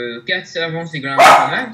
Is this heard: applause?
no